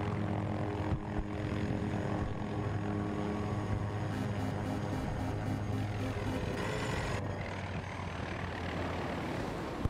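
A helicopter in the shooter game Battlefield 2042 drones steadily and loudly throughout, with rotor thumping and engine whine holding at constant level alongside other gameplay sounds.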